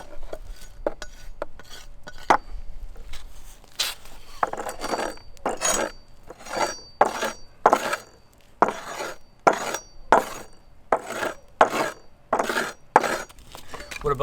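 A knife spine scrapes along wood to shave off fluffy tinder, a series of rhythmic rasping strokes, close and fairly quiet, that grow faster and more regular toward the end.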